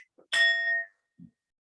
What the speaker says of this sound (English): Ring my bell once to bring us back.